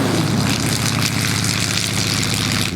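A propeller airplane on a runway gives off a loud, steady droning engine hum with a pulsing low throb from the airscrew. It stays close and constant throughout, with no voices.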